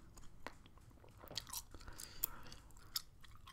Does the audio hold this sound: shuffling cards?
no